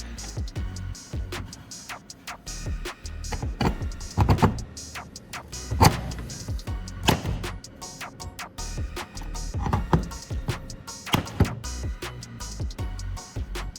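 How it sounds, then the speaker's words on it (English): A manual rivet gun squeezed repeatedly to fasten an L bracket, giving a series of sharp, close clicks and snaps at irregular intervals over a quiet background. "Just a quick squeeze of the rivet gun, and it's done."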